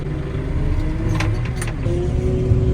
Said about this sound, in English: Big red French and Sons lorry.